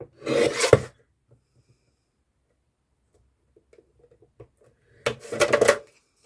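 Tin can being trimmed for a Christmas ornament: two short bursts of rasping, scraping metal cutting, close and fairly loud, separated by a quiet stretch with faint small ticks and handling noises.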